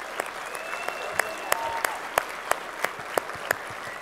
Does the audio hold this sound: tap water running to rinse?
no